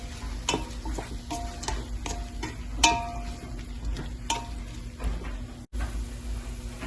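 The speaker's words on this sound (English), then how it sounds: "Then you're going to add your mint leaves in here. And now mix all of this together." Mint leaves being stirred into beetroot pulao in a pan: soft scraping strokes and light clicks from the utensil against the pan at an irregular pace over a low sizzle.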